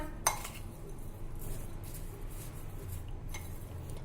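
A spoon mixes ginger with sugar and lemon juice in a dish, opening with one sharp clink of metal on the dish, then soft scraping and a few lighter taps.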